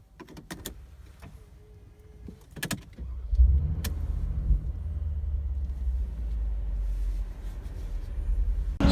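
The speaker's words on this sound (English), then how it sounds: "Turn on the car." A 2017 Mercedes-Benz G63 AMG Edition 463 comes to life after a few clicks and key sounds, its engine catching with a low thump and settling into a deep, steady idle rumble close by.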